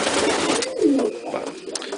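Rollers and satinettes in a pigeon loft coo in a soft, continuous murmur, with the flock close by, steady and fairly loud, and a brief swelling call partway through.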